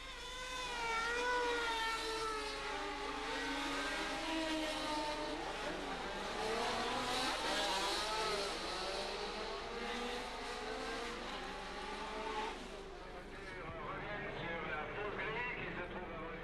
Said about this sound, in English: The start, with Eamon and Hulme in an all-Kiwi front row, Stewart and Ickx behind.